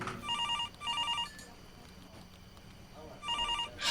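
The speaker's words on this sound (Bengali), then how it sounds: "এমন সময় থানার ফোনটা বেজে উঠল।" An old-style telephone rings in a police station for an audio drama, giving two rapid trilling bursts, then a pause, then a third burst, each one bright and close.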